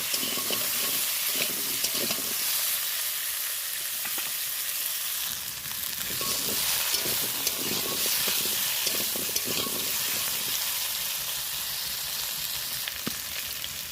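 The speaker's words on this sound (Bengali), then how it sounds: "একসাথে দিয়েছি তেলে এবার ভালো করে একটু নেড়ে নেব" Potatoes frying in hot oil in a pan, a continuous loud sizzle and crackle with repeated scraping and clinking of a spoon as they are stirred throughout.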